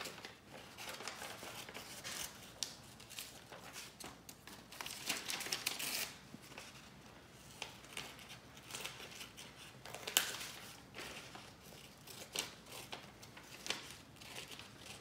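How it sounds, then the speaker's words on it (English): Scissors cut through paper along the outside of a drawn panda shape, giving soft, quiet snips mixed with crinkling and rustling of the sheet, close and gentle throughout. "So now I'm gonna cut the outside part."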